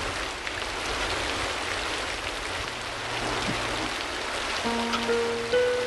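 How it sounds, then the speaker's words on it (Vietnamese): Steady July monsoon rain falls as a dense, even hiss of pattering drops, with a faint low hum and a soft tone entering near the end. "Mưa ngâu tháng 7."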